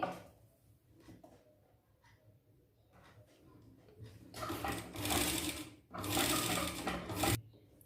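A sewing machine stitches around a blouse neckline, running in short bursts that build to two loud sustained runs, with faint handling noises between.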